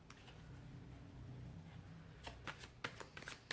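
Tarot cards being shuffled by hand for a weekly reading, a soft steady riffle with several sharper card slaps and flicks near the end, close and moderately quiet, with no talk over it.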